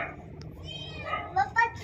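A small kitten gives two short, high meows close by at the end, after faint background voices and household noise.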